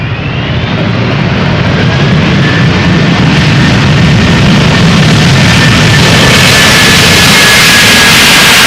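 An aircraft lands at Amsterdam Schiphol Airport with loud, continuous jet engine roar close by and a thin whining tone above it, sustained and heavy throughout with no talking.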